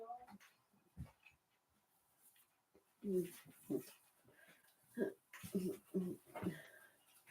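A dog whimpering and panting nearby, soft whines and breathy pants arriving in short bursts, with quiet gaps between them.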